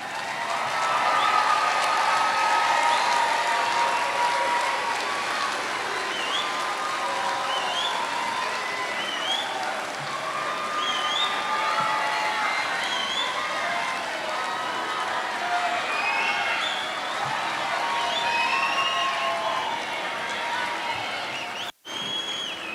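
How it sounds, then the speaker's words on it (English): A high school graduation audience at the Bloomington High School North ceremony cheers and applauds the graduates with a steady, loud roar of clapping, shouts and whistles that runs without a break for over twenty seconds. "celebrate them with your applause"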